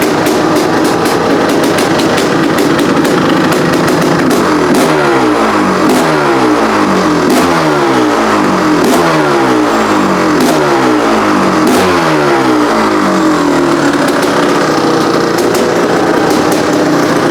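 A Honda CR500 two-stroke dirt bike, fitted with a cheap eBay carburetor, runs loud and close. The engine note throbs steadily and rises and falls in rhythmic swells throughout, with no talking.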